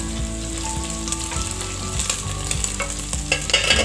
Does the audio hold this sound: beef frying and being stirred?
yes